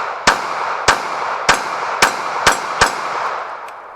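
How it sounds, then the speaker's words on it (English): A Glock 42 pistol fires six rapid shots in an uneven string, each a sharp loud crack with a brief ringing tail over steady outdoor background noise, no voices. "I'm going to take a couple quick shots with this."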